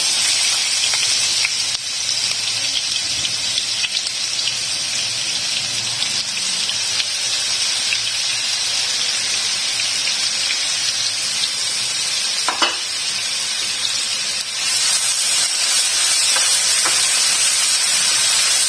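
Chopped onions fry in hot oil in a restaurant-style egg masala curry pan, giving a loud, steady sizzle and hiss that runs throughout with occasional stirring clatter, no talking.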